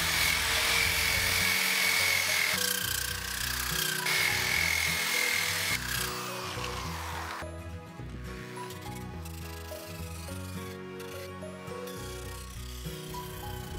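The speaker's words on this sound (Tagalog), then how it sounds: "gumagamit ako ng polisher na mayroong adapter na 5-inch velcro na liha. So ngayon, gamit ko 100 grit" A polisher fitted with a 5-inch velcro pad and 100 grit sandpaper sanding wood pieces for a shoe rack, a steady whirring grind that shifts pitch midway as the pressure changes, loud and close with no talking.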